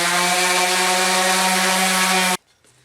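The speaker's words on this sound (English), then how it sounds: "I have a palm sander, a little cheap Porter cable." A cheap Porter Cable palm sander buzzes loudly and steadily against a wooden plaque with a strong tonal hum, then cuts off abruptly into near silence.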